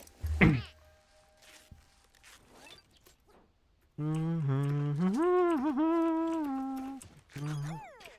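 A person imitating a cat's meow, a long drawn-out vocal mew rising and wavering in pitch, followed by a shorter one, preceded by a sharp zip-like rustle and quiet room noise.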